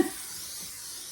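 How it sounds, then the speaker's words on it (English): Cooking spray hisses onto a baking pan for cake mix cookies, one short steady spray heard close up. "I highly recommend spraying your pan beforehand"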